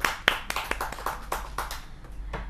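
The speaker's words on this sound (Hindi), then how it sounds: "खूब गुदगुदाया, खूब हंसाया रसिक जी ने। एक बार जोरदार तालियां हो जाए रसिक जी के लिए।" Scattered clapping from an audience at a kavi sammelan after a humorous poet's set, a few distinct claps at first thickening into fairly quiet, uneven applause heard on its own.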